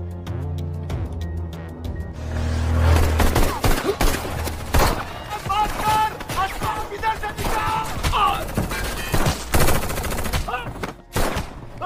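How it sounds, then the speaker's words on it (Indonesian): Gangsters and police trade fire in a film shootout: rapid bursts of gunshots and machine-gun volleys crack loudly and repeatedly over a dense, chaotic mix, with shouted voices briefly mixed in. "para gangster langsung menyerang sehingga memicu baku tembak antar mereka di sana"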